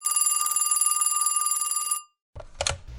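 An old-style telephone bell rings in a rapid continuous trill for about two seconds, then stops; after a brief silence a handset is picked up with clattering noise.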